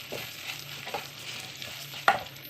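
Rice and browned vermicelli stirred together in a ceramic pot, with a soft scraping and sizzling under a low frying hiss and one louder scrape of the spoon near the end.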